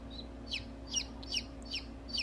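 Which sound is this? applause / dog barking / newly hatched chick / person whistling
newly hatched chick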